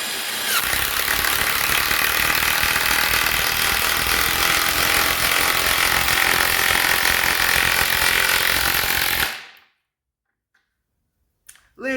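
An Ozito 18V 3-speed 400Nm impact wrench drives an M10 bolt into wood with a loud, steady rattling hammer lasting about nine seconds. It stops abruptly, leaving near silence.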